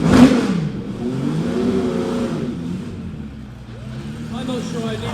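A Porsche Le Mans-winning race car at a vintage and classic concours revs its engine in a sustained, mid-pitched drone that rises and dips, close by, with voices talking over it.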